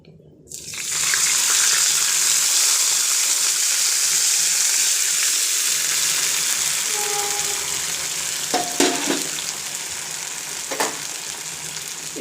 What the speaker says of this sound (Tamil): பின்ன வந்து இப்போ வேக வச்சுருக்கேன் இந்த பாசிப்பருப்பு இதில் கொட்டிடலாம்.